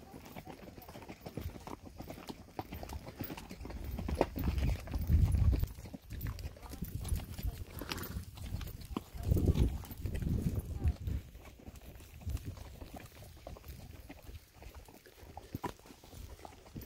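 Horse hooves clop unevenly on the ground during a first-time horseback ride, soft low thuds under wind noise and rustling, with people talking now and then nearby.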